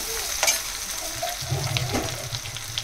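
Curry leaves dropped into hot oil for a fenugreek badiya curry, a short close sizzle and crackle with a brief scrape of stirring.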